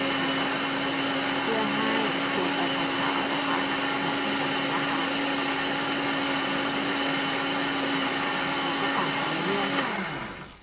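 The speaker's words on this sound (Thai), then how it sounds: "เข้าเครื่องปั่นนะคะ แล้วก็เติมน้ำสุกนะคะ ที่ประมาณ 500มิลลิลิตรนะคะ ก็จะทำการปั่น" An electric blender whirs steadily, blending chopped fingerroot with about 500 ml of boiled water, a loud continuous motor roar that holds for about ten seconds before winding down at the end.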